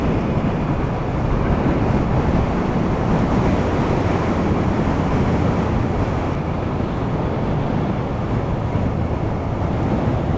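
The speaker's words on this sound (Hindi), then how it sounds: "हवा चल रही है" Strong, steady wind roars over the microphone outdoors as a dense, unbroken rush at close range with no pauses.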